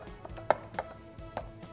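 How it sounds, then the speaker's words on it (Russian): A few soft, irregular taps and light pokes of a fork pricking tartlet pastry dough on a hard surface, close and quiet, with gaps between them. "И вот теперь вилкой протыкаем"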